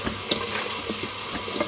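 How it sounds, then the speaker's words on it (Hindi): Spices fry in oil in a pan for shaljam gosht, a continuous hiss broken by small pops and crackles, close up and fairly loud with no voices. "ये देखिए हमने इसके अंदर ऑयल डाल के अब अपने मसाले को अच्छी तरीके से भून लेना है।"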